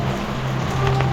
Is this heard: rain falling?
yes